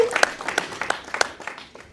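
A studio audience on a television program gives a short burst of scattered clapping, individual claps standing out over about two seconds and thinning as it ends.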